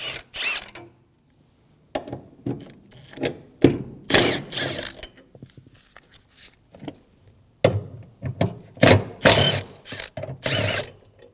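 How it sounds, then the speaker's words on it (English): A ratchet with a 14mm socket loosens frame bolts inside a 2008-2015 Scion xB. It gives close, loud bursts of rapid clicking, several separate runs broken by short pauses and a near-silent gap. "Using a 14mm socket, we're going to remove all 5 bolts for the frame."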